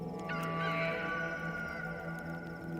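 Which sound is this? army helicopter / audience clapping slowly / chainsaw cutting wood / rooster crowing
rooster crowing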